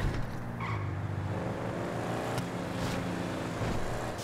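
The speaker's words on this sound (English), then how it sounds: "I love this Sprunk car. It's very nice." A car engine drones steadily while driving in GTA, a game, joined by brief whooshes and faint tire noise. The sound is moderate and continuous with no voices over it.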